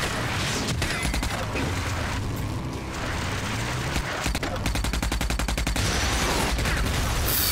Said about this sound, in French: Il y a un autre qui me tire dessus.